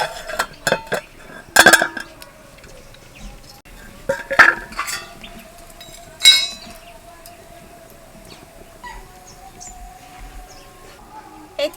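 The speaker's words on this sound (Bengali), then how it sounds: "ঢাকনা খুলে দেখবো" A metal pot lid lifted off a pan of egg and masoor dal, sounding as a few sharp clanks and clinks spaced across the stretch, with quiet kitchen background between them.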